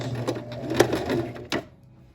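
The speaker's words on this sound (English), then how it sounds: "I'm going to go maybe one more stitch and then back stitch." Sewing machine stitching a shirt and then back stitching, a close mechanical whirring run with a couple of clunks, ending abruptly with a sharp click before quiet.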